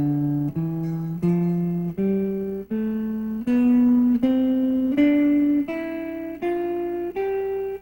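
Jazz guitar plays a slow ascending scale, about a dozen evenly spaced single notes climbing step by step, each ringing clearly and alone at close range.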